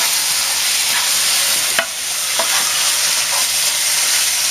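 Thin strips of boneless sirloin steak frying in a pan for a ginger lime beef stir-fry, a steady close sizzle throughout with a few brief clinks of stirring.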